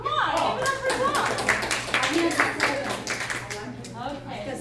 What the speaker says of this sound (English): No claps for Tom. Come on, give it up for Tom.